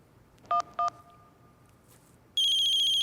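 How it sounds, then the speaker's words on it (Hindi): A telephone rings indoors with two short, bright electronic chirps in quick succession, then after a pause a loud, steady high-pitched ringtone tone that keeps sounding, with no voices. "अबे फोन बज रहा है"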